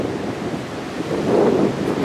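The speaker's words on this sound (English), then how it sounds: "A little bit of wind." Wind gusts across the microphone at Point Park, a lookout above Chattanooga, as a steady rushing roar that swells near the end, with no one speaking.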